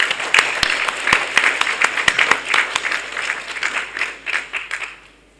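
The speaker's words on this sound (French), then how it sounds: "Et je souhaiterais que nous l'applaudissions tous ici présents." A room of attendees at an academic conference claps together in a warm, steady round of applause that fades out toward the end.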